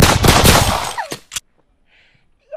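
A burst of loud gunshots in a comedy skit, a dense rattling volley followed by a couple of isolated cracks before it drops to near silence.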